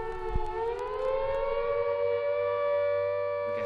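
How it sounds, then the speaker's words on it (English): A civil defense air raid siren wails in a sustained, steady tone that slowly rises and holds, loud and alone with no talk over it. "As the siren sounded,"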